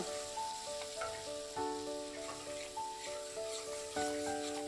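Mustard, cumin and green chilli paste frying in hot oil gives a soft, steady sizzle up close, with a tonal hum running beneath it.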